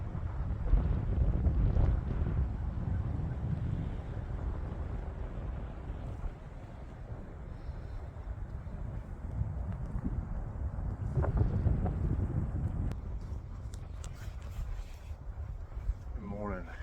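Strong wind buffets the microphone outdoors on an Alabama WMA during a January deer hunt, giving a steady, heavy rumble while a person talks quietly.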